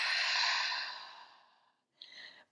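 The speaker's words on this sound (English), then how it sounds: "Inhale. And exhale." A long audible exhale during a morning yoga flow, a soft breathy rush that fades out over a second and a half, followed by a brief second breath after a short silence.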